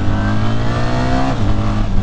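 2025 BMW R 1300 GS Adventure motorcycle accelerating hard through its gears, a loud, close engine note rising in pitch, dropping briefly at a shift, then climbing again.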